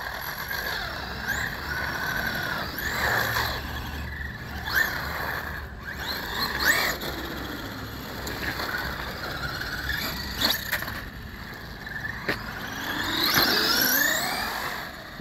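A Traxxas Rustler VXL RC car runs fast, its high electric motor whine rising and falling in repeated passes with tire squeals, fairly close and loud, no talking.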